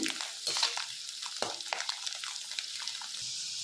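Garlic cloves frying in oil for a Tamil-style garlic pickle, a soft low sizzle broken by scattered scraping stirs and faint watery bubbling, fairly quiet and close.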